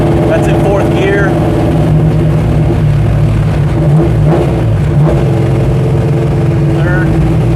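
A 1968 Dodge Charger V8 cruising in fourth gear, its steady low engine drone loud and continuous throughout, with brief voices talking over it.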